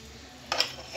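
A brief scrape of a spoon stirring goat head and trotters curry in a cooking pot, one short clinking swish close up over a low background hum.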